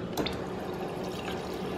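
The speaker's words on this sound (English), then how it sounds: "So I'm gonna fill up my cup here with some water." Water runs steadily into a cup, a continuous close splashing pour with faint drips, no talking.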